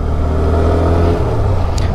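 A low-displacement motorcycle with ABS gathering speed on a wet road, its engine drone loud and continuous, rising slightly in pitch.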